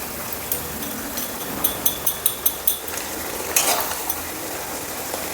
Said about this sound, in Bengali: এখন আমি পনিরটাকে ঢেলে দিব।